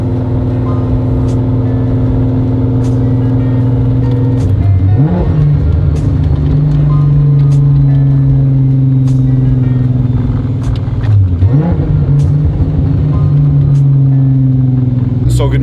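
A Golf R32 with a big turbo making over 450 wheel horsepower drives on a snowy road, its engine droning steadily and rising in two short revving pulls while people talk inside.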